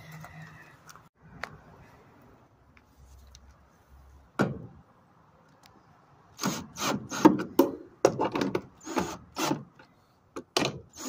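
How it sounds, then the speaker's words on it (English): Bolts are tightened on a Nissan NV2500 tail light: a run of quick ratcheting clicks and metallic taps in short bursts, close and fairly quiet against a near-silent background. "now I'm just going to tighten up these bolts"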